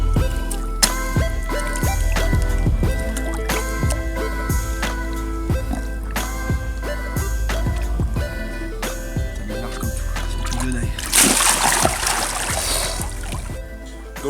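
A carp is released back into the water of a gravel pit lake during a carp fishing session, ending in a burst of splashing after a stretch of drips and small wet handling sounds.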